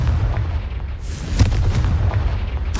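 A Confringo blasting spell explodes in the video game Hogwarts Legacy, with a loud, continuous low rumble and a sharper boom about midway, heavy and close throughout.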